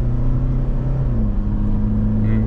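A 2023 Toyota SW4 SRX with a 204-horsepower engine accelerates from inside the cabin, giving a steady low engine drone whose pitch steps up as it pulls, with no talk over it.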